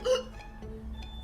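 A cartoon kitten lets out a single sharp hiccup at the start, loud and close, followed by a quieter trailing vocal sound and soft background hum.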